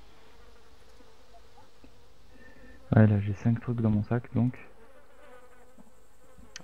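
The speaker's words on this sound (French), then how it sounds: "On entend les mouches maintenant." Flies buzz in the DayZ video game, a faint, steady insect hum running throughout, while a voice talks over the middle of it.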